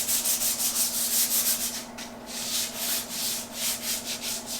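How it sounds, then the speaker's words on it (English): Hand sanding on a diesel engine oil pan during restoration, a close, rhythmic rasping of strokes back and forth in even pulses, with a short pause partway and a constant low hum underneath. "So I'm just going to sand"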